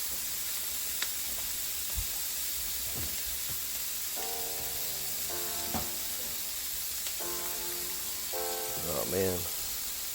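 Kale wilting in a hot pan gives off a steady, soft sizzle that runs the whole time, with occasional stirring clinks and a voice speaking briefly over it.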